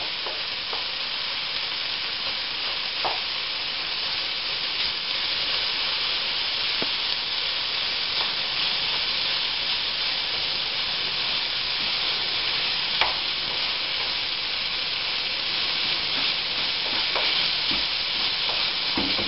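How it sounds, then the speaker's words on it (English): Chicken sears in a pot with onions, vegetables, garlic and ginger, giving a steady, dense sizzle of frying with occasional stirring clicks, close and continuous, with no talk. "you're sealing the chicken at the same time, and you're sweating the onions and the vegetables, garlic and ginger into the chicken"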